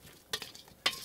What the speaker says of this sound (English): We're going to give them a little stir.